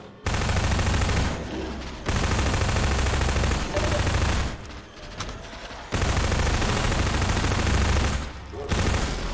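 Sustained bursts of heavy gunfire blast loudly in a video game, each barrage lasting a second or two, with short breaks between them.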